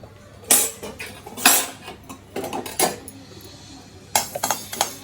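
Fenugreek seeds being added to a pan while making vangi bath powder: a series of close metallic clinks and scrapes of a spoon against the pan, irregular bursts with quieter rustling between them.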